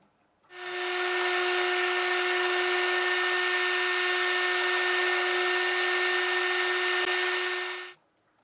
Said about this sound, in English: I am going to have to drill it out.